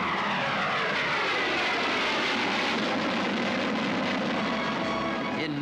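New supersonic fighter jets roar over Tushino Airfield before a huge crowd, a loud sustained rushing engine noise that swells and fades continuously for several seconds without speech.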